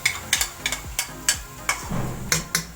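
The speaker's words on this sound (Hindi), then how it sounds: "दही के साथ मैं इसको भून लूँगी ताकि इस मसाले का कच्चापन ख़त्म हो जाए।" Spiced besan masala with yogurt frying and stirred in a pan, a steady sizzle broken by regular sharp scrapes and taps of the spoon, close and fairly loud with no voice.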